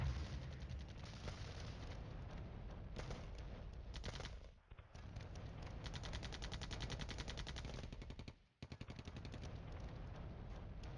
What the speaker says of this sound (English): Mortar fire isn't going to be that effective against my tanks